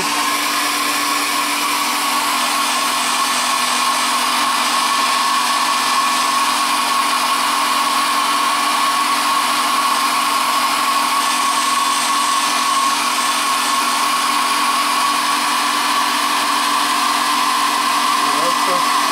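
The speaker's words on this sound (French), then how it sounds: "Je vais donner un coup de sèche-cheveux pour faire sécher la base." A hair dryer blows steadily and loudly across a water-based paint base coat on a Suzuki RG250 motorcycle part, a constant whirring hum with a strong tonal whine that runs unbroken throughout.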